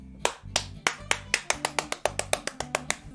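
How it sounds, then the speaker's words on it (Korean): Sharp hand claps ring out in a steady, evenly paced run of about fifteen, close and crisp with short gaps between. "우리 모두 다 박수를 한번 보냅시다"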